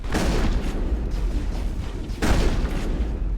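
Shotgun blasts ring out in Mass Effect during a fight on Feros, two heavy booming reports about two seconds apart, each with a rumbling tail, loud and close, with no voices over them.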